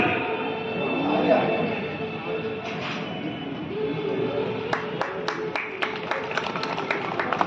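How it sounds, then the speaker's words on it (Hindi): A gathered audience applauds at an Independence Day flag hoisting ceremony held by the Nagar Palika in Pukhrayan. A soft crowd wash gives way to distinct, steady claps near the end, moderately close. "जोरदार तालियां हो जाए।"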